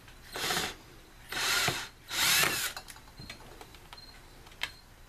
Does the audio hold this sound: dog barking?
no